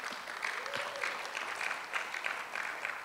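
Audience applause at an African business opportunities forum and expo, a steady spread of clapping across the room, moderately distant and continuous throughout.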